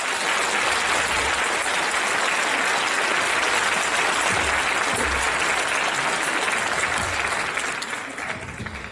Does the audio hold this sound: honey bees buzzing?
no